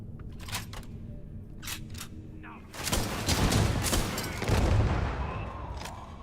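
Grenade explosion in Starfield, a loud sudden blast midway that rolls into a long roaring, rumbling decay after a few sharp clicks and shots.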